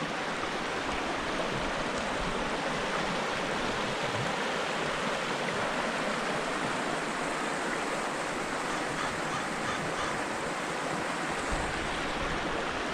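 The Snake River in Colorado rushes past in a steady, broadband wash of flowing water, constant and fairly close with no voices.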